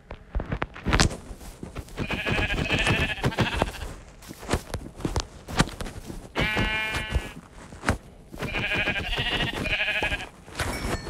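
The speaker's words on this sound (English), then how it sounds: "Wait, I see a sheep. Gotta kill you, sheep." Sheep in the Minecraft video game bleat several times in repeated short bursts, over a busy stream of clicks and thuds from gameplay, with no talking.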